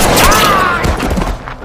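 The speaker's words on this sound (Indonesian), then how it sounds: "terdengar suara tembakan yang tepat mengenai lengan si minion tersebut" A single loud gunshot from Squid Game season 2, the Front Man firing at a masked guard and hitting his arm. It lands as a sharp, heavy blast with a brief ringing tail, close and alone.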